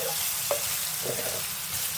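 Vakkaya berries frying in hot oil for pulihora give a dense, even sizzle throughout, with a couple of soft stirring knocks.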